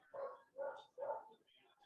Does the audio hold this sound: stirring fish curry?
no